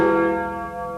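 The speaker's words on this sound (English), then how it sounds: "The Freedom Bell, donated by the Americans, still rings at Schöneberg City Hall." The Freedom Bell at Schöneberg City Hall in Berlin, a large bell donated by the Americans, rings with a single loud, resonant strike whose rich overtones hang and slowly fade.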